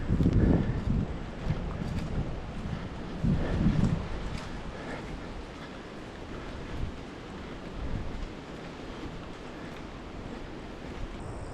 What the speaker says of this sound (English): Oh, windy.